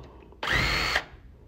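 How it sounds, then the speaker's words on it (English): A cordless power driver spins briefly to back out a deadbolt screw from a door, one short close whir lasting about half a second amid quiet surroundings. "driver like this to remove the bolt to the side"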